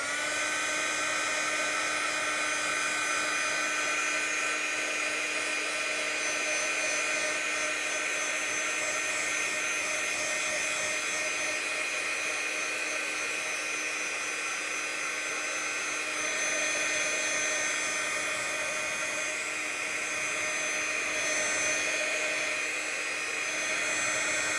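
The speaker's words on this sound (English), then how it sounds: "Should I zap it with a heat tool? Yeah, let's zap it." A heat tool blows hot air onto a watercolor painting in a sketchbook, a loud continuous high-pitched whine with an airy rushing hiss that holds steady throughout, no talking.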